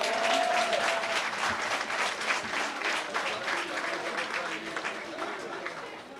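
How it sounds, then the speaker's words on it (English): Sustained applause fills a handing over ceremony for new homes in Geneva, Grand Bay, as a crowd claps steadily and loudly, tapering slightly toward the end. "Let's give him a round of applause."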